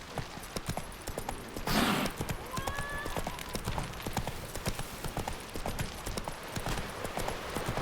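The horse Roach in The Witcher 3: Wild Hunt, hooves clip-clopping in a steady rapid rhythm throughout, with a brief whinny-like sound early on.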